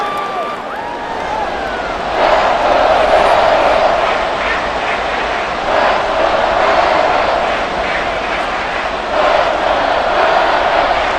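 A stadium crowd at an NFL game between the Denver Broncos and Detroit Lions, a broad steady roar that swells louder after a couple of seconds and stays high, with some speech under the din.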